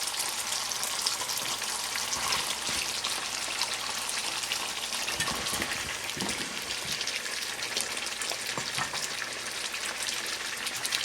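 Peppers tempering in hot oil give a steady, dense sizzle that runs loud and even from start to finish, with a few brief stirring clatters near the middle.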